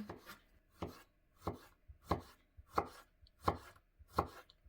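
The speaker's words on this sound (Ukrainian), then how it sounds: "ми нарізаємо огірочок маринований соломкою" A knife slices pickled cucumber into thin strips on a board: six or seven evenly spaced, crisp chops in a slow, regular rhythm, close and clear, with no talk.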